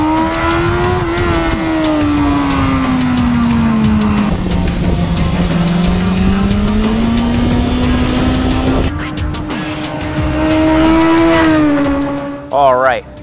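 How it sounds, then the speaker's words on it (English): The 999cc inline-four engine of a 2015 BMW S1000RR superbike wails loud and steady under hard riding, pitch sagging and climbing through gear changes, then a sharp rev burst at the end. "once again, the highlight of this motorcycle is its engine performance."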